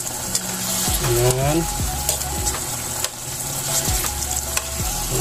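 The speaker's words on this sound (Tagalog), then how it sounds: "Ayun, kumukulo na nga siya. Haluin lang natin." Pork adobo sizzles and bubbles at a boil in a pan while a utensil stirs, scraping and clinking against it, with a brief voice speaking over the cooking.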